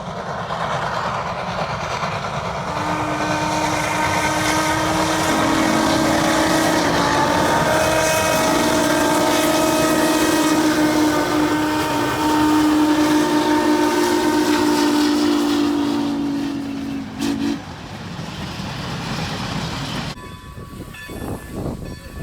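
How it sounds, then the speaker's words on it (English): Two steam locomotives double-heading a passenger train at Strasburg Rail Road, close and loud, sounding long sustained whistle blasts over the rumble of the moving train before the whistles cut off and the rumble fades. "Another rare sight in the modern world is seeing two steam locomotives double-heading"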